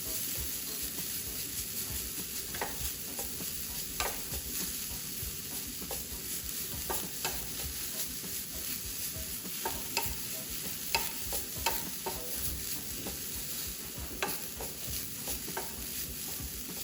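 A pineapple coconut cream pie topping is stirred in a frying pan, giving a steady quiet sizzle with soft intermittent scraping strokes throughout, no talking.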